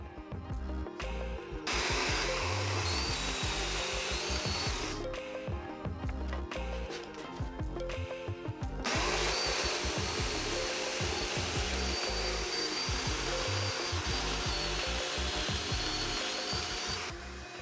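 Domino joiner plunging mortises into routed walnut chair parts, two loud bursts of dense whining cutting noise separated by short pauses, close and alone.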